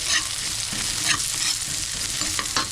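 Onions frying in a pan for a tilapia escabeche dish, a steady close sizzle with scraping stirring strokes through it and no talking.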